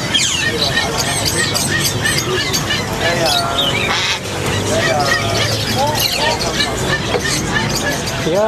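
Many caged pet birds in a Saigon bird shop squawk, squeal and chirp over each other in a loud, busy chorus, with people talking through the noise.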